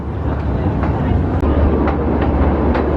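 Steady rumble of the train ride at Blackpool Pleasure Beach, a continuous low roar with faint periodic clicks as it runs along the track, close and constant for the whole stretch.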